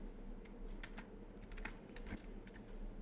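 Keys on a computer keyboard click in a quick, irregular run of soft taps, faint and close against a low steady hum.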